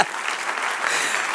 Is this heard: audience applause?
yes